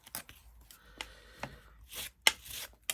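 A bone folder creases and presses cardboard corners while a journal is made from a cardboard box, giving quiet, irregular scrapes, rubs and sharp taps spread across a few seconds.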